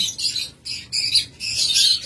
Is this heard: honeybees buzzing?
no